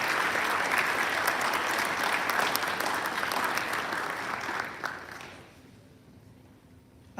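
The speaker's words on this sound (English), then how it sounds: "Students, please give them a round of applause for their ongoing support." Dense audience applause at a National Honor Society induction ceremony fills the room steadily for about five seconds, then fades quickly into a quiet hall.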